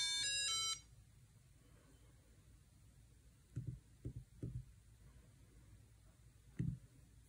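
An HP 42S calculator emits a short run of rapid electronic beeps at the start, fairly loud and then cutting off, followed by faint clicks and soft handling sounds.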